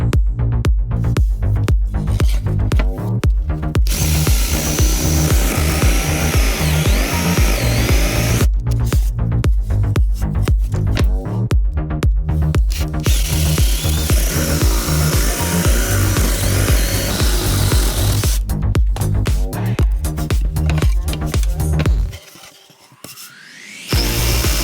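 Power tools cut angles and shape scrap-wood rails and legs for step stools in a workshop, loud, continuous and close, with rhythmic mechanical pulsing, brief pauses between cuts, and a quieter gap near the end.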